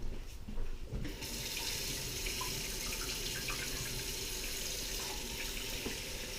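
Hot water from a kitchen tap runs in a steady, close stream while filling for pizza dough, a continuous splashing hiss after a brief clatter at the start.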